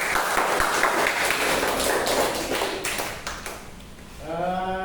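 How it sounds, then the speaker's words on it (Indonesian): Applause from a classroom of students, dense steady clapping for about four seconds that thins out, then a voice begins speaking at the end. "kasih tepuk tangan betul"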